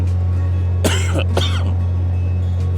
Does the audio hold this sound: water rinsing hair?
no